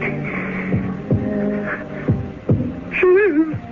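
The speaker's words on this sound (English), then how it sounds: "It's not her heart that's beating. It's mine." A heartbeat sound effect in a CBS Radio Mystery Theater drama thumps in a slow, steady rhythm over a low hum, about five beats, with a short wavering tone near the end.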